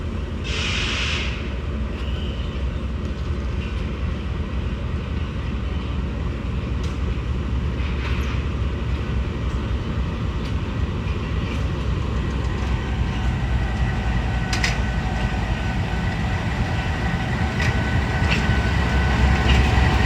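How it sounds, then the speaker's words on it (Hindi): The 102 Down Subah Raftar train pulls out of Wazirabad Junction with a sustained, loud rumble of wheels and carriages that builds steadily, with occasional sharp metallic clicks and a brief whistle-like tone at the start. "उसके बाद डिपार्चर हो रहा है 102 डाउन सुबह रफ्तार रेलगार का वज़ीराबाद जंक्शन से"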